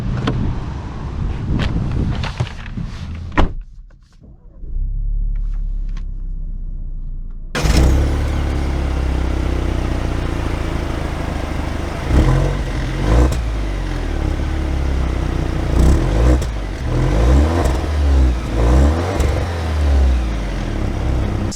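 A 2021 Alfa Romeo Giulia Ti AWD drives along, a steady engine and road rumble with some wind noise, swelling as it accelerates after a quieter start with a few clunks.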